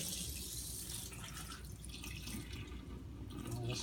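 Water pre-rinsing dirty 9mm brass casings: a faint, steady trickle and splash of running water with light dripping, continuous and close, with no talk.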